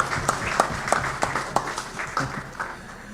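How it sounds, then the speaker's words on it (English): A round of applause for a speaker at a formal event, a small group clapping in a fairly even rhythm, close and moderate, tapering off after a few seconds. "Let's thank our speaker with a round of applause again."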